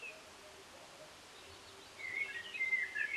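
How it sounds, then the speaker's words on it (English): Birds chirping outdoors, faint high tweets over a soft, hissy background, growing a little busier and louder near the end, with no voices. "I was waiting for the birds"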